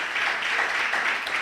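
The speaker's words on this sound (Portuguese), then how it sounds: "vamos dar uma salva de palmas ao Senhor" A church congregation claps together during a sermon, a steady, moderately soft wash of applause that runs unbroken for the whole moment.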